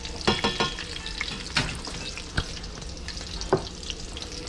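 Red drum fish fries in a pan with a steady bright sizzle and crackle, punctuated by a few sharp spatula taps and clicks, close up and without speech.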